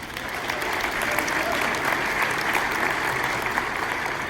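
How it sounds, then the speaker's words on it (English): Audience applause at a live training event, a steady dense wash of clapping from a crowd that holds at even loudness throughout, with no voices over it. "So give yourselves a round of applause for being here."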